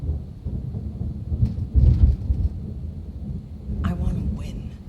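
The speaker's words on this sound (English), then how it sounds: "it's thundering here" Thunder rumbles indoors during a rainstorm, a low rolling boom that swells in the middle, with a person's voice briefly audible near the end.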